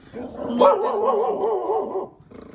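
A dog gives a single drawn-out, wavering whine-like bark lasting over a second, close and moderately loud, followed by faint noise.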